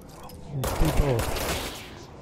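Gunfire in the PC video game Control, likely shotgun blasts, comes as a few loud, close bursts amid dense combat noise over about two seconds.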